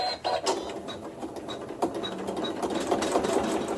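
A computerized embroidery machine stitches bubble quilting into fabric with a steady, fast mechanical whir of needle strokes and faint clicks, close and moderately loud, with no one talking.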